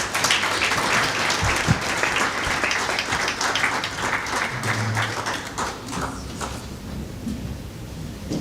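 Sustained audience applause for the Chief Justice of Kenya at a legal education conference, steady dense clapping throughout with no talk over it.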